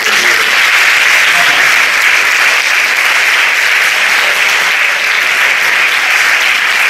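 A room of students and guests at a talk on online gaming, virtual reality and e-sports gives a lecturer sustained applause, a thick, even wash of clapping that holds steady at full volume throughout.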